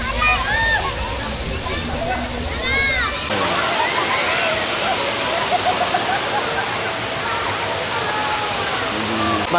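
Cold, clear spring water pours down from above into a swimming spot, a steady loud rushing splash that continues throughout, with voices and crowd chatter mixed in during the first few seconds.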